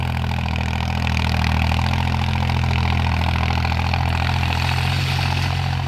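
A YTO 454 tractor engine runs steadily and loudly up close, plowing while pushing soil, with a constant low diesel drone and no pauses.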